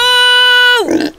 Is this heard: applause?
no